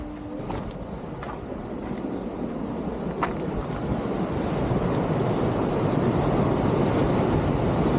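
Ocean surf rushes and roars steadily against a rocky coast at Ribeira da Janela, Madeira, growing louder as waves break, with wind buffeting the microphone and a few faint clicks early on.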